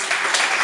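Applause from an audience at a brevet-awarding ceremony in Kinshasa, a brief steady patter of many hands clapping at moderate loudness.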